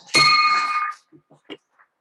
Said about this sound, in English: So I'd like to ring the bell.